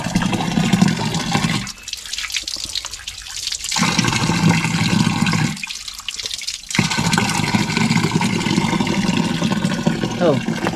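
Spring water pours steadily down a hillside in Georgia, a loud, continuous rushing splash that is broken twice by brief pauses while people talk nearby.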